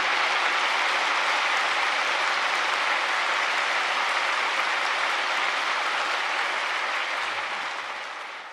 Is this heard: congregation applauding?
yes